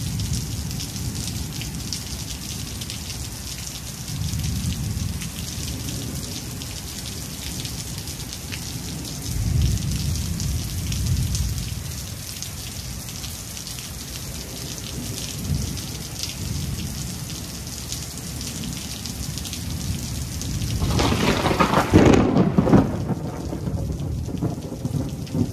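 Heavy rain pours steadily while rolling thunder rumbles at intervals, with a loud, close crack and boom near the end, no voices present.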